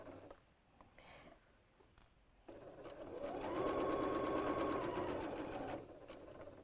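A lightweight travel sewing machine fitted with a quarter-inch quilting foot stitches in a steady, close whirring run of about three seconds, then slows and stops in a quiet room.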